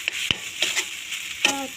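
Noodles cooking in a pan with a gentle sizzle and intermittent scraping and stirring strokes, a few sharp clinks of the utensil against the pan, close and fairly quiet.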